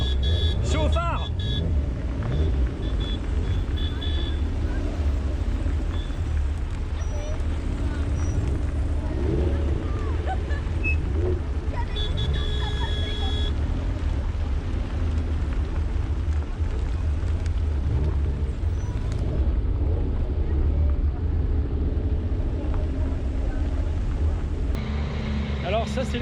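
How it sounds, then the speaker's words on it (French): Racing trucks of 1700 horsepower, weighing about 5 tonnes, thunder around the Castellet circuit with a heavy continuous engine rumble throughout, loud and steady, with voices talking over it. "Alors ça c'est les camions de course"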